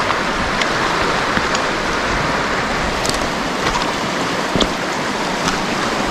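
The Psezuapse, a mountain river near Lazarevskoye in Sochi among snowy slopes, rushes in a dense, steady roar of flowing water, close and loud throughout, with occasional splashes and no voices.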